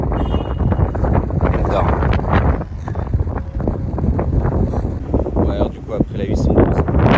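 Strong gusty wind buffets the microphone outdoors beside a Porsche GT3 Touring, a loud continuous rumble running throughout while someone talks over it.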